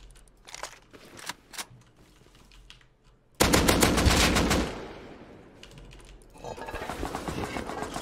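Rapid bursts of automatic gunfire in a solo shooter video game, including an AK rifle, crackle in short volleys followed by a loud sustained stretch of shooting, then more fire after a brief lull.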